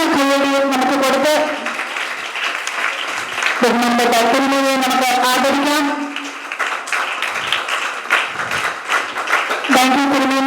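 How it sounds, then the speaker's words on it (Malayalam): Audience applause at a high school opening ceremony and toilet complex inauguration, steady clapping running throughout, mixed with loud tonal music and someone speaking over a microphone. "ഒരു നല്ല കയ്യടി നമുക്ക് കൊടുത്ത്"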